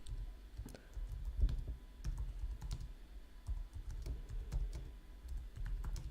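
Steady typing on a computer keyboard, close and alone, with irregular key clicks and occasional heavier thumps from the keys.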